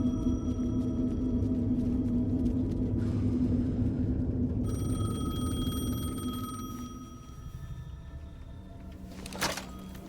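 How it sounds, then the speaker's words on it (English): Payphone ringing inside the video game Alan Wake 2, a steady electronic tone over a heavy low rumble that drops away partway through, ending with a brief click, no voices. "The payphone was ringing."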